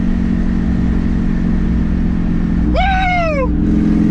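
A twin-turbo Subaru STi engine is street tuned at high boost, giving one loud, clear rev that rises and then falls for about a second over a steady idle drone.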